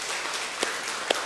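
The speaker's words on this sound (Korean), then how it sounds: "박수 한번 쳐주시죠" A church congregation applauds, a dense, even patter of many hands nearby, with a couple of sharper claps standing out, no talk over it.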